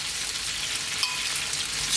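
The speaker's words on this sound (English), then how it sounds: "sizzling is from the heat of the pan, which as you can hear is going away now" Pork ribs sizzle in a hot pan with the heat switched off, a steady close hiss of frying with no talk.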